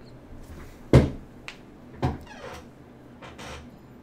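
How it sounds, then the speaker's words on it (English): A wooden chair creaks and knocks in a few separate sharp bursts, close by in a quiet room, with no one talking. "This chair creaks far too much."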